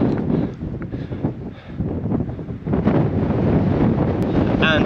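Strong wind buffets the microphone during a gravel cycling race in Scotland, a constant rough roar gusting unevenly throughout with no clear speech on top.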